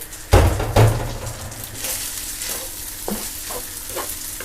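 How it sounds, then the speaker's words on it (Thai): Jasmine rice and egg are stir-fried in a hot pan, opening with two loud spatula scrapes and clatters over a bright, continuous sizzle, followed by softer stirring taps as the frying hiss carries on. "เอาไข่เอาข้าวลงนะคะเพื่อเยะผัดเลย"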